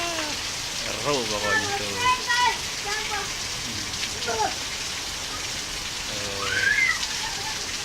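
Steady rain pours down outdoors, a dense constant hiss of drops on surfaces, while children's voices shout and chatter over it.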